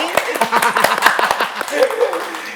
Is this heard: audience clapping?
yes